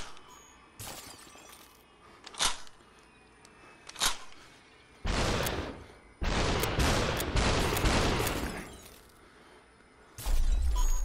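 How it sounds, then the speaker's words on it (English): SUPERHOT VR game action as a gun is thrown and an enemy shatters: a series of loud, sharp glassy crash bursts, short hits early, then longer heavy shattering bursts, with a final loud burst at the end. "I just threw the gun at him."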